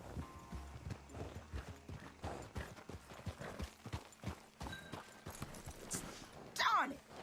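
A horse in Red Dead Redemption 2 clip-clops along with hooves thudding in uneven rhythm, then gives a short whinny near the end, while a player talks over it.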